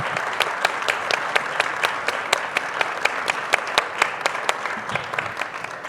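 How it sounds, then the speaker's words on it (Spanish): A panel audience gives its four panelists a round of applause: many hands clapping steadily, with several sharp, distinct claps standing out near the front over the continuous patter. "Un fuerte aplauso."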